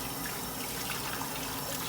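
Water poured onto vinegar-soaked beef in a pot for carne guisada, a steady soft rushing pour with no break.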